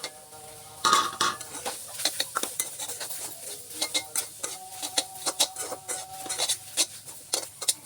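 Cabbage being stirred in a metal pan, giving repeated scraping, clinking utensil strokes in an uneven rhythm at close range with a faint sizzle beneath and no talking.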